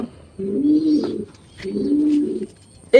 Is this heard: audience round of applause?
no